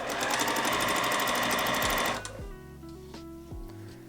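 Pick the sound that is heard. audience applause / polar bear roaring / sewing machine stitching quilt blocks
sewing machine stitching quilt blocks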